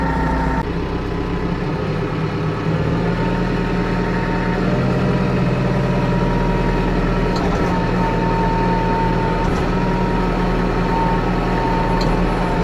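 Engine of a McCormick X1.55 compact tractor, 55 horsepower, running steadily during a test drive, a continuous low rumble with close, even drone and no talk over it.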